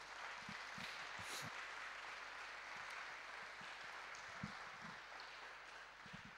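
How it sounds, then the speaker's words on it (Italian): Applause from an audience welcoming a newlywed couple at an Italian presentation event, a steady wash of clapping heard at a distance, faint and sustained throughout with scattered sharper individual claps. "Vogliamo accoglierli con un applauso."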